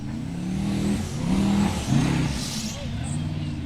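Formula Offroad buggy engine droning and revving on an off-road track in the ORI Cup, a steady loud low roar that surges and dips as the buggy climbs, with a commentator talking over it.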